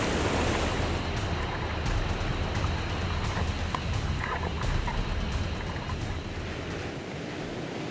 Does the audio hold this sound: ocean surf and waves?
yes